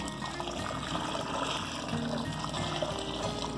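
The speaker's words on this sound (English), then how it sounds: "my water will go in now" Water pours steadily into a pot of beef soup, a continuous rushing splash at moderate volume that runs the whole time without a break.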